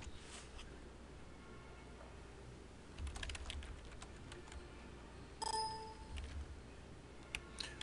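Keys clack on a computer keyboard while network router commands are entered, with quiet scattered keystrokes and short faster bursts at a low level.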